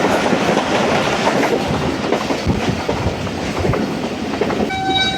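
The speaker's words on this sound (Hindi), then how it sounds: "ट्रेन हमारी दौड़ लगा रही है बिरिया रोड और पटीजन के दरमियान" The Millat Express train runs on rails in Sindh, Pakistan, with a loud, continuous rumble and rhythmic clatter heard from on board, and a horn-like tone sounding near the end.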